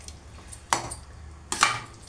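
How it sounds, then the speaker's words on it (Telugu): A spoon scrapes and knocks against a pot twice while sago pearls are stirred into kheer, each time a short metallic clatter, with quiet pauses between. "సగ్గుబియ్యం కూడా వేసేసి కలిపేసుకోవాలి చక్కగా."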